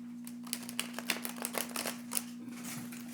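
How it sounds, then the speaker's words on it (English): A deck of divination cards is shuffled in a quick series of close, crisp riffles and flicks over a steady electrical hum. "I'm going to give the cards a shuffle and kind of clear out the energy"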